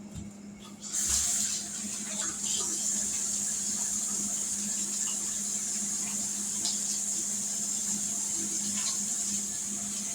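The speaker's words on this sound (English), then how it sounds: "Let me wash my hands right quick." Water runs steadily from a kitchen sink tap while hands are washed under it during cooking, a constant close hiss with small splashing changes and no talking.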